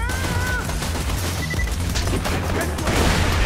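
Rapid bursts of gunfire from the video game Borderlands 2 crackle continuously in a busy firefight, loud and dense, with game effects and a voice talking over it.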